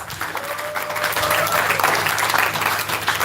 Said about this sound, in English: Can we have a round of applause for the people who feed us?